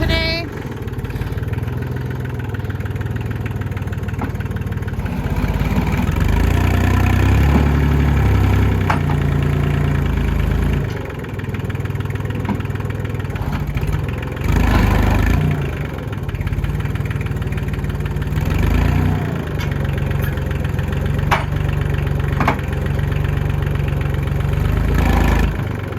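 A tractor fitted with homemade forks idles steadily while lifting a hay bale of over 1,000 pounds, its loud, close, continuous engine rumble surging slightly now and then under outdoor noise.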